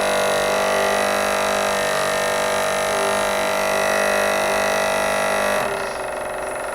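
A small electric motor runs strained under load at about 2 volts, giving a loud, steady, tonal buzzing hum that suddenly drops in pitch and level near the end.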